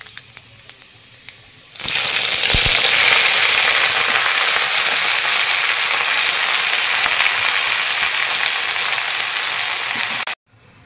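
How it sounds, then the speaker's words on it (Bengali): Greens drop into hot oil seasoned with black cumin and five-spice, bursting into a loud, sustained frying hiss that holds steady for several seconds before cutting off abruptly, preceded by a few faint clicks. "আজকে 5-7টাকে এরকম করে ভাজবো।"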